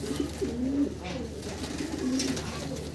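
Large pigeons at a seller's place coo nearby in low, rolling calls, two clear bursts a second or so apart, with a voice talking faintly behind them.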